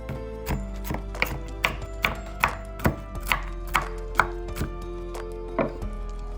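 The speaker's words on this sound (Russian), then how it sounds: "50 грамм грецких орехов. Измельчаем ножичком." A knife chops walnuts on a board in a steady rhythm of about a dozen sharp, close knocks, each strike distinct over a faint low hum.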